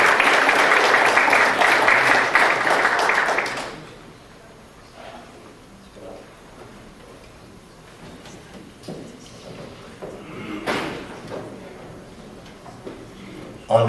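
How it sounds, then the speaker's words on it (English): Warm applause from a gala audience for an award recipient, a dense burst of clapping for roughly four seconds that stops abruptly, leaving a quiet room with scattered faint knocks and shuffles. "Please give a nice round of warm applause to Mr."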